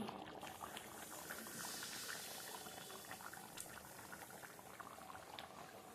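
Nehari stew boils in a pot, a close, steady bubbling and popping that continues throughout without any talk.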